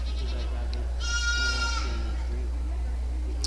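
Goat bleating at a goat show, a single drawn-out wavering bleat close by over steady background hum and murmuring voices.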